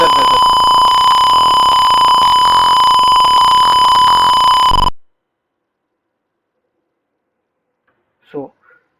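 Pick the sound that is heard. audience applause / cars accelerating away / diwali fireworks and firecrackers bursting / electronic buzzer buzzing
electronic buzzer buzzing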